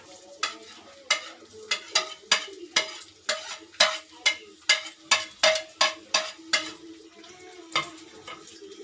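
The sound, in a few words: onion, green chillies and whole spices frying in oil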